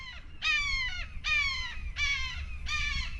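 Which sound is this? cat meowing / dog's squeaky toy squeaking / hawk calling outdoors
hawk calling outdoors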